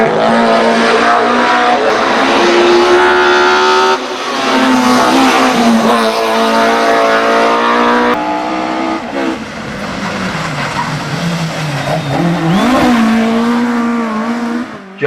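A 1960s race car on an Australian circuit powers through S-bends, its engine a loud, sustained, close howl that rises and dips with gear changes and cornering throughout.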